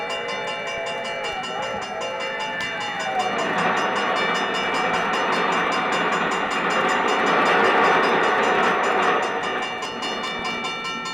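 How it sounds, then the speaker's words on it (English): Radio drama train effect from a 1947 broadcast: a steady, loud rumbling rush of a passing train with a sustained whistle-like horn tone, building in the middle and holding for several seconds, with no talk over it. "There's a train coming."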